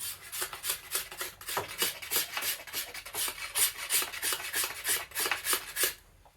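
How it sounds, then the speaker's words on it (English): A card scraper is drawn along a wooden yew bow limb in quick, regular strokes, each producing a crisp, bright rasping scrape, close and fairly quiet, repeating about twenty times without talk. "Down this side, the beautiful card scraper"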